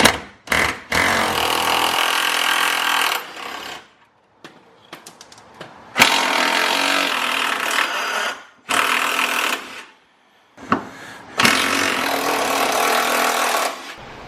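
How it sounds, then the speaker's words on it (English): Loud bursts from a power tool, like an impact wrench, removing a Porsche Cayman engine mount, rattle in several long runs separated by short quiet gaps and faint clanks. "That's gonna be the next step, getting the motor mount off"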